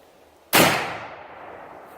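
A single loud shotgun blast from a TAC 14 firing a Hornady Critical Defense 2 3/4 inch buckshot shell, a sharp sudden crack with a long decaying echo outdoors.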